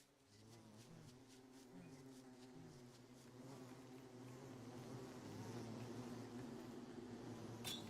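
Bees buzzing in the video game Palia, a faint steady drone with wavering pitch that grows slightly louder toward the end, with no talking.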